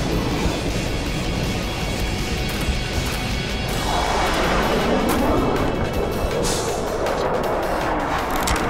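A rocket explosion in the video game Black Mesa, a loud, dense crash and rumble that fills the whole stretch with sustained debris-like noise and no talk.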